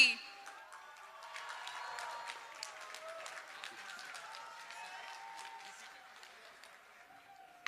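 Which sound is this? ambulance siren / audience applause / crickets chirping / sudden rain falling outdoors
audience applause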